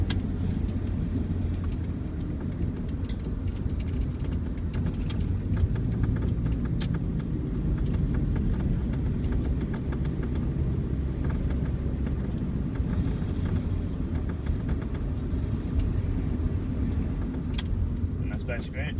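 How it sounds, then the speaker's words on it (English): A Subaru EA82T turbo engine running Megasquirt MS3x cruises at a steady 60 under constant throttle, giving a low, even engine and road drone with faint rattles and occasional light clicks throughout. "That's just cruising along at that 60 again with the constant throttle"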